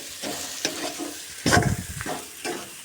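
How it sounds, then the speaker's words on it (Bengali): Vegetable chop filling fries in a pan with a soft sizzle while a spatula scrapes and stirs it in several close strokes, one louder scrape in the middle. "তো এটাকে আমি ভালো করে কষে নিলাম"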